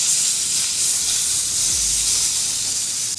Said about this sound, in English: Put some butter down. Get these patties down here.